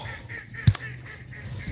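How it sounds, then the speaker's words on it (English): Ducks near a fishing spot give a loud, close honking quack with a few fainter calls after it, amid quiet outdoor background. "I don't mind ducks. It's just when they're noisy as shit"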